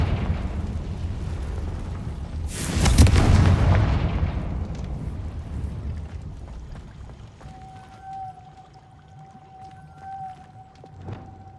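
A Confringo blast curse in Hogwarts Legacy erupts as a loud, broad explosive burst that rolls and decays over a couple of seconds, followed by quieter ambience and a thin sustained tone.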